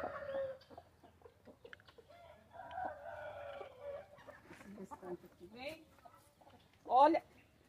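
Chickens and guineafowl cluck and call at evening feeding time on a farm, with someone talking over the birds and one louder squawk near the end.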